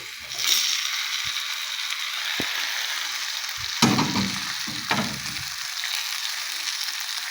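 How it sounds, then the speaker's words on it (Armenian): Egg and chopped greens frying on a tava pizza in a covered pan give a steady, close sizzle with a few sharp clicks and scraping knocks from stirring, and no voices. "ամենավերջում ավելացնում ենք ձուն կանաչիի հետ միասին"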